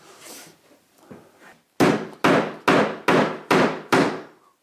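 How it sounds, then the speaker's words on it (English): Six sharp, loud hammer blows on pallet wood and nails land in a steady rhythm after a few softer scraping knocks, each ringing briefly before the next strike. "when I'm trying to knock out nails like this"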